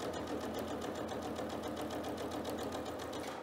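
A sewing machine fitted with a walking foot stitches steadily through a quilt top, a quiet, rapid, even mechanical chatter that holds its pace throughout.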